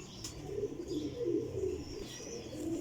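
Several Kasuri pigeons, a Teddy Golden lot with small tails, coo close by in a steady overlapping murmur, low rolling calls repeating throughout with a few faint chirps and a brief flutter, no voices.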